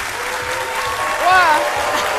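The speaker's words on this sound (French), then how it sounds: "Je vous demande de l'applaudir très très fort." A studio audience applauds on a television talk show set, a steady, dense clapping that fills the whole moment with a brief whistle or cheer rising above it.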